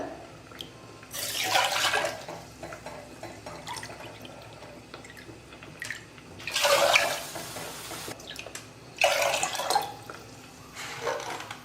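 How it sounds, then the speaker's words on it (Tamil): Water splashes into a pan in three separate pours, three cups for one cup of rava when making rava kichadi. The bursts are close and fairly soft, with quiet pauses between them. "1 கப் ரவைக்கு 3 கப்பு தண்ணி வைக்கிறேன்."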